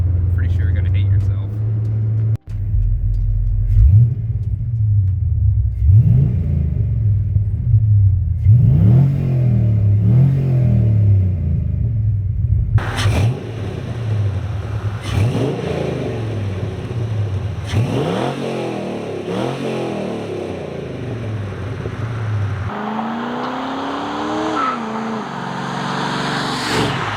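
LS-swapped G-body Chevrolet El Camino with a V8 exhaust rumbling loudly while driving, rising in repeated revs and gear pulls, close and continuous throughout, with occasional talking over it.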